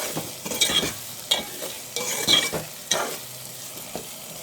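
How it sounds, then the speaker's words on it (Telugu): Taro root and onion pieces fry in a pan as a spoon stirs them, giving a steady soft sizzle broken by repeated scraping strokes and clinks, close up with no talk. "ఉల్లిపాయ ముక్కలు, చామదుంపలు అన్నీ కలిసేలాగా ఫ్రై చేసుకుందాం."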